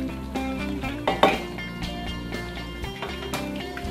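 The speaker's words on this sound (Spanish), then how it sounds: "Lo tapamos." A lid is set over a pot of chicken in sauce with potatoes, a clear metallic clink and clatter of cookware over a steady low kitchen hum, with a couple of lighter taps after.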